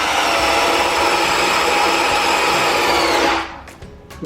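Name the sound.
Mollar CDD585 12V cordless drill drilling in gear 2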